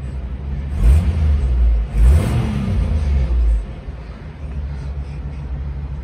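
A Jeep CJ7 engine runs nearby with a deep rumble, swelling through a couple of revs before dropping back to a low steady idle.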